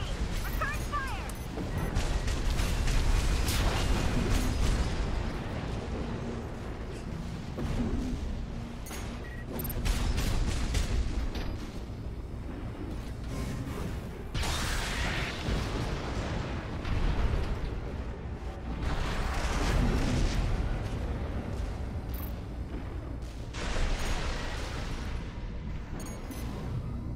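Heavy combat in the Armored Core 6 video game: booming explosions and bursts of gunfire rising and falling in loud waves during an attack, with voices speaking over the battle at times.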